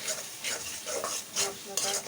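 Meat browning in a pan, with sizzling and a few quick stirring and scraping bursts of a utensil against the pan, close and fairly quiet.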